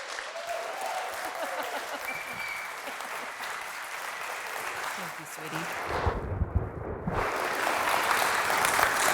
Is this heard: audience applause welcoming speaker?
yes